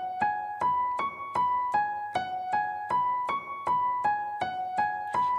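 Piano notes in a repeating four-note right-hand pattern from a song, climbing up and back down, played evenly at a moderate pace, each tone clear and ringing.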